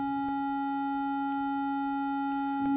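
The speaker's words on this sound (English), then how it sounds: "when you add these circles together, you get something called a triangle wave, which gives you a different noise" A synthesized triangle wave tone built from added circular components holds steady and alone at a constant pitch, with faint clicks scattered through it.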